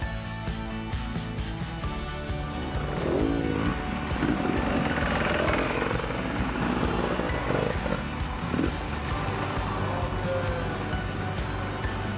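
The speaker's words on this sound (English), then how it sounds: "it's a joy to ride a motorcycle through these parts" A Beta 300 RR off-road motorcycle engine revving and droning at moderate distance in the Black Hills, pitch rising and falling as it rides, with no voices.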